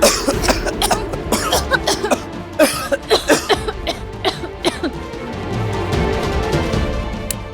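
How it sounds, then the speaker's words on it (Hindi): Two people cough again and again indoors, a rapid run of close, harsh hacking bursts lasting several seconds over a mosquito-troubled room's background hum. "तुम दोनों इतना खांस खा रहे हो?"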